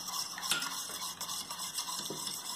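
Egg and sugar are beaten in a bowl, with quick, continuous scraping and clinking of the utensil against the bowl, close and fairly quiet.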